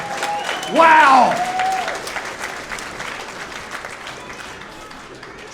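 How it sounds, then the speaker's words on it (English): A fight-night crowd applauds the two fighters, starting with a loud burst that includes a voice calling out, then settling into steadier clapping and crowd noise. "Let's give these guys a big round of applause."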